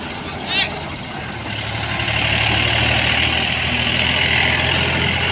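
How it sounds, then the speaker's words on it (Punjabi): A tractor engine idles nearby in a Punjab village, its steady rumble growing louder and holding, with people talking over it. "ਟਰੈਕਟਰ ਵੀ ਪਹੁੰਚ ਚੁੱਕਿਆ"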